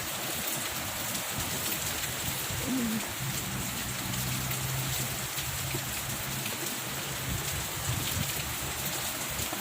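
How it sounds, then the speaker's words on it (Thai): Steady rain falls throughout, a dense continuous hiss of drops at an even level with no voices, and a faint low hum lies beneath it. "เพราะว่าฝนมันตกนะคะ"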